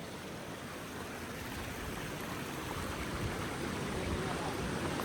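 Rushing water of the Kalu Balu waterfall near Kondeshwar temple roars as a dense, unbroken wash of noise from close by, steady and slightly rising, with no talk.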